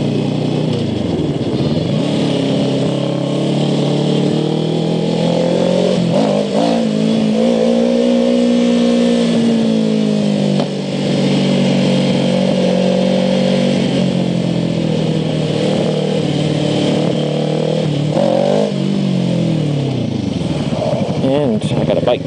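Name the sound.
motorcycle engine revving while riding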